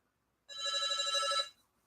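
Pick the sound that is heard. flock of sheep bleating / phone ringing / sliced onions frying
phone ringing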